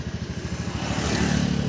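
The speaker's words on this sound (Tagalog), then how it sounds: "dito ako nakapag-motor sa Siargao" A motorcycle engine runs steadily while riding on Siargao island, with a low pulsing putter that swells slightly louder toward the end, heard close and alone without talk.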